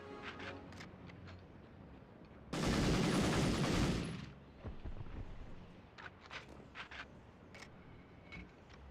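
Rapid burst of M1 Garand rifle fire in the Medal of Honor video game, a dense loud volley lasting over a second, followed by scattered quieter clicks and game sounds.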